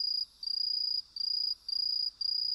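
Crickets chirp in steady pulsed bursts, a bright high trill that repeats about every half second with short gaps, alone and fairly close.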